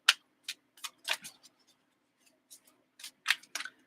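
Celtic Dragon tarot cards being shuffled by hand, a series of soft, crisp papery riffles and taps in irregular bursts, close and quiet with no speech.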